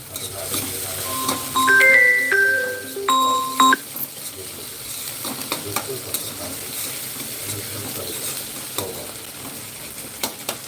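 Oil sizzles steadily in a pan as tempering is fried for a quick dried-fish rassa, with stirring clatter and a few short electronic beeps near the start before the frying continues alone.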